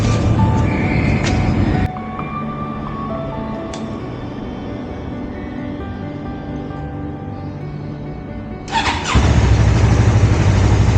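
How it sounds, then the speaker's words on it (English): A Yamaha MT-03 motorcycle with a freshly cleaned and oiled K&N air filter: a steady mechanical whir and hum runs for most of the clip, then near the end the starter cranks briefly and the engine catches into a loud, close idle. "Let me start up my motorcycle."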